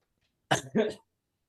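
A single sharp cough in two quick bursts, close and alone, followed by silence.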